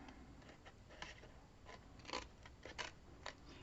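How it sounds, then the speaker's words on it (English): Scissors cutting paper for a handmade album, a series of soft close snips at irregular intervals in a quiet room, no talk. "I will line up as best I can the end of my scissors where I want the end of my cut to be"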